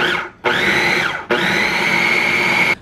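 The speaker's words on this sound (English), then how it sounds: "put your lid on it and then just pulse just a few times until you get it all nice and mixed together" A kitchen blender pulses salsa ingredients in two loud bursts: a short whir, a brief pause, then a longer steady whirring run that cuts off abruptly.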